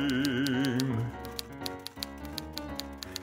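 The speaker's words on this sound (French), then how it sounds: "Elle fait un bruit d'enclume, cette machine à clavier" A typewriter types in a 1970s French song about a paper-pushing clerk, with sharp mechanical key clacks falling in an irregular rhythm under a sung melody and music.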